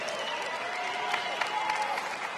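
An arena crowd at a Mixed Fight Championship MMA event in Frankfurt claps and cheers steadily for the fighters, while an announcer's amplified voice carries over the applause.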